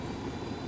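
Helicopter in the video game Ghost Recon Wildlands, a steady low rotor and engine drone holding at an even, moderate level through the brief moment with no talk.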